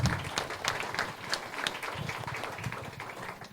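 Audience applause for a venture capital panel on energy and climate tech investment, a short, steady round of many hands clapping from a modest crowd, heard near and continuous throughout.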